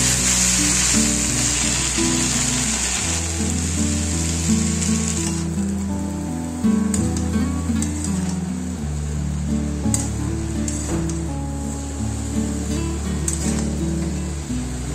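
Bottle gourd greens stir-fried with potato and eggplant in a pan hiss with a continuous loud sizzle, broken by scrapes and a few sharp knocks from stirring, with no one speaking.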